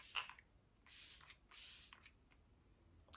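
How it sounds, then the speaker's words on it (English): Several short bursts of setting spray misted onto a face, each a soft broadband hiss lasting under half a second, close and quiet with gaps between pumps and no talking. "I forgot to use the setting spray, so I'm going to use it now before I do mascara so it doesn't smudge"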